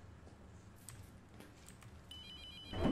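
A telephone rings inside an abandoned building with no electricity in the horror video game Abandoned Souls. Quiet, murky ambience with faint knocks gives way to a bright, steady electronic ring that starts late and carries on to the end.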